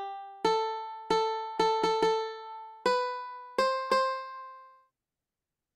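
Piano notes from a Scratch piano tiles project play one at a time in an uneven, rising sequence, about eight clean tones that each decay quickly before a final fade to silence.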